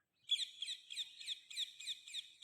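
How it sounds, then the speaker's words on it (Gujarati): A rapid series of sharp, high chirping calls from a parrot at a temple, repeated about eight times in a steady rhythm, clear and close with no talking. "એકદમ ચોખ્ખો અવાજ આવે છે પોપટનો પણ"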